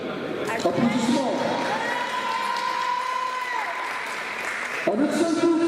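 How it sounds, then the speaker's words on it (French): Audience applause at a community charity event as football team players are introduced one by one, steady clapping with crowd murmur and a voice speaking over it throughout. "Applaudissements."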